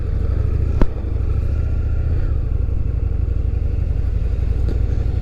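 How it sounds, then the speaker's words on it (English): Two Honda Hornet motorcycles and a Honda Rebel pull away together, their engines a steady mid-pitched drone heard from close by over constant wind rush, with one brief sharp knock early on. "There's the boys off on their two Honda Hornets and a Honda Rebel."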